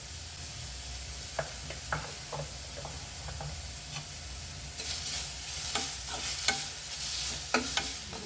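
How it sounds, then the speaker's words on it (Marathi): Garlic and chili dry-roasting in a pan for garlic lachha paratha, a continuous close sizzle with repeated light stirring taps that grows louder and brighter in the second half. "बघा आपलं लसूण आणि मिरची आता छान अशी भाजून झालेली आहे"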